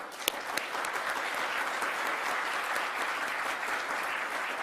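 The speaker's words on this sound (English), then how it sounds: "big round of applause for our beloved true mother" Banquet audience applauding, a dense, sustained wash of clapping from a large crowd in a hall, steady in level throughout with a couple of sharper individual claps near the start.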